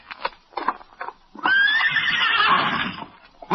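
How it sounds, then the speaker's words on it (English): A horse lets out a loud, close whinny that rises and wavers for about a second and a half, preceded by a few soft snorts and shuffling sounds. "Then he was suddenly startled by a warning whinny from his horse Victor."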